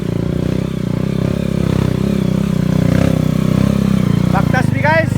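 A motorcycle engine labors along a rough forest trail, a loud continuous low drone with clattering and scraping from the bumpy ground, while someone talks over it near the end.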